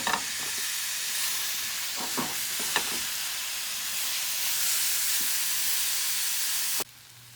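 Ground beef and potatoes sizzle and hiss steadily in a hot pan while a spoon stirs through them, with a few scraping knocks early on, before the frying noise cuts off abruptly near the end.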